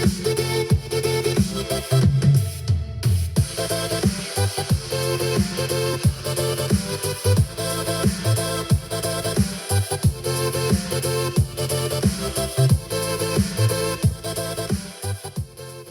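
Music plays through a Kitsound Cayman wireless 2.1 speaker system, heard as a steady, full mix with a prominent beat and bass, continuous and fairly loud with no talking.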